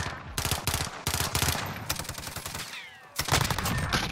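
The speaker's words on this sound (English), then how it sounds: "Why can't this gun shoot through the fucking wood?" Loud automatic gunfire in a first-person shooter game, rapid close bursts separated by brief pauses.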